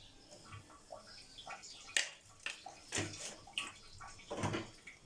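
Water is poured into a pan of fish being cooked in a home kitchen, a faint, uneven splashing and trickling with soft clinks and scrapes throughout, quiet and close, with no talking.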